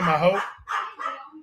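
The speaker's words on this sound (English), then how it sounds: "He's still barking." A dog barks in a few short close yelps and whimpers at night, mixed in with someone talking.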